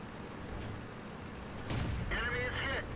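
A tank cannon fires in the World of Tanks video game: a single booming shot lands partway through, over steady game background rumble, and a faint voice is heard toward the end.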